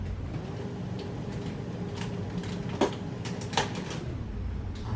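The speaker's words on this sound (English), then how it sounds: "heard a nice snap" A plastic valve connector clicking into the top of a BEERMKR home brewing machine, two short faint snaps over a steady low mechanical hum.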